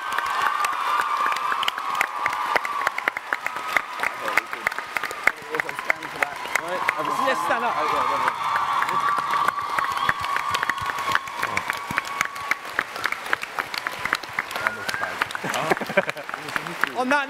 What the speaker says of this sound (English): Folks, can we give an almighty round of applause?